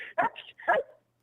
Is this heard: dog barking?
yes